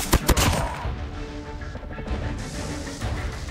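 Gunfire in a Call of Duty match: two sharp close shots open the passage, then a dense rumbling wash of distant firing and impacts continues underneath.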